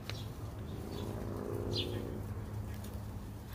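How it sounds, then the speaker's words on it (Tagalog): Many birds, mostly pigeons, coo outdoors in Canada. A soft, layered cooing rises and fades over a steady low rumble, with a few faint chirps and no talking. "Pagpasok mo dito, ang dami ibon."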